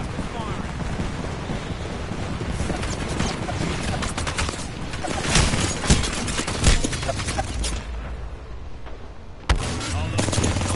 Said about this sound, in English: Knuckle cluster firing.